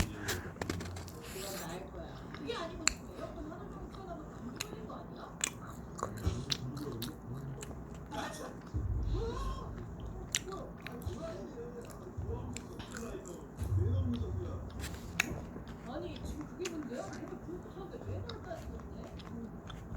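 Cheese sticks and fried chicken being bitten and chewed close to the mic, with soft crunches and wet squishy chewing at irregular intervals and a few quiet spoken words.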